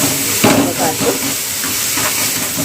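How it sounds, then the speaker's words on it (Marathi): Spices frying in hot oil for a bitter gourd curry, giving a steady loud hiss and sizzle with a few stirring scrapes, heard close up and continuous throughout. "मसाल्यांना ना चांगलं तेलामध्ये असं फ्राय करून घेऊया"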